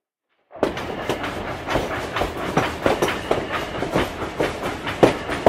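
A train rolls steadily along the rails with a repeating clickety-clack of wheels over the joints, close and continuous, with no voices.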